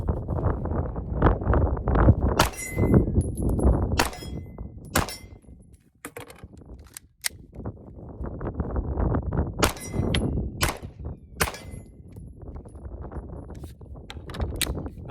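Pistol shots from a Ruger Magpul RXM 9mm fired at a steel target at an outdoor range, heard as a string of sharp cracks with bright metallic pings, partly masked by heavy wind rumble on the microphone.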